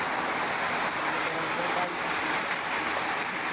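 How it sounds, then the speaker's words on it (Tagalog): Heavy rain pours steadily at a house construction site, a dense, loud, continuous hiss with no letup. "Biglang lumakas ang ulan,"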